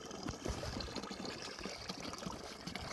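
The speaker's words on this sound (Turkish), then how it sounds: "Oluktan sular nasıl da güzel akıyor." Water trickling steadily from the spout of an old stone fountain dated 1992, a continuous soft splashing flow at close range with faint ambient noise.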